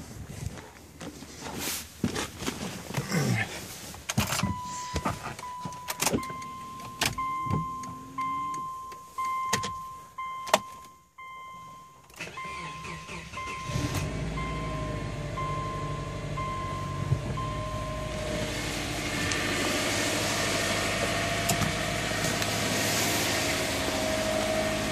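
Engine of a Subaru Outback XT with a troubled turbo cranks, catches and settles into a steady idle, preceded by clunks and footsteps nearby; the idle holds loud and continuous after startup.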